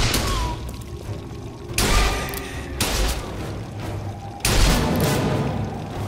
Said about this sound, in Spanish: ¡Buen disparo, Booker!